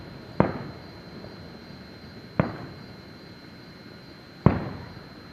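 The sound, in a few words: Fourth of July fireworks exploding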